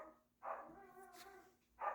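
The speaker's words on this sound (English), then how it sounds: "Dog's up." A dog gives two short, fairly faint barks about a second and a half apart, heard from a distance against a thin steady hum.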